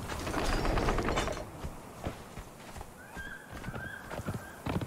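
Hoofbeats of a horse in the video game Conan Exiles clop along with a mechanical clatter, loud at first, then quieter with sparse steps and a faint whinny-like tone.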